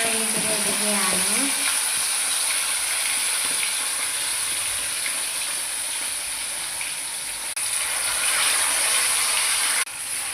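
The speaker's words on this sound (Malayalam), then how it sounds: "ചീഞ്ചട്ടി തന്നെ ചിക്കനും പൊരിക്കുകയാണ്" Chicken fries in a large pan while biryani is prepared, a continuous hissing sizzle that stays steady throughout, with a short clatter and a few vocal sounds at the start.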